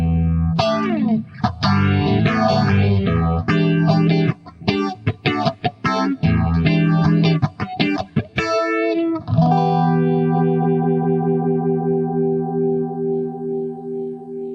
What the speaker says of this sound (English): This is a phaser. It's under the phaser heading of the multi effects unit, but I can control the pulse of the phase, and it sounds very much like a univibe.